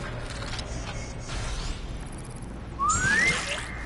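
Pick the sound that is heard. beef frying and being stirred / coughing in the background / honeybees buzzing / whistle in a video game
whistle in a video game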